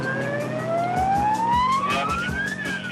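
A wailing police car siren sweeps up and down in pitch during a road pursuit after a violent carjacking, loud and close over rumbling engine and road noise.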